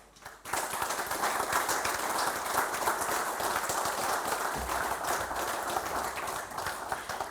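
Applause at a security award ceremony in Slovenia, a dense, steady clapping from a crowd that starts abruptly and carries on evenly to the end.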